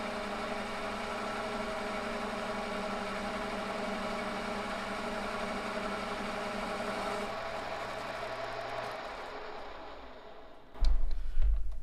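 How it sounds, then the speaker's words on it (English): A Monarch 10EE lathe runs steadily while cutting, a constant mechanical hum with faint chatter, winding down near the end before a louder knock. "Of course it's going to do that chattering when I'm filming."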